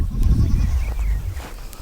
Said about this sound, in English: these are our Kiko goats, our females, our does